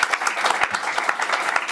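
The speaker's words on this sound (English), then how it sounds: "Give them a hand clap of praise" A church congregation claps in praise, a dense steady patter of many hands filling the room close by, with no talk over it.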